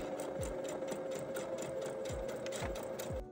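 A sewing machine stitches the two short sides of a fabric cuff in a steady, close, continuous whir, with a few soft thumps marking the needle and fabric handling.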